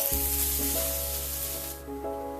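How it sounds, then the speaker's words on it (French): Onions caramelizing in a pan give a steady, close sizzle throughout, with a faint bright hiss. "on continue à caraméliser nos oignons"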